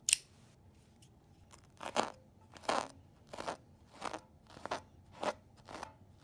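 Something being cut up at night in a cemetery: about eight evenly spaced crunchy snips close by, each a short crackling cut, with quiet in between.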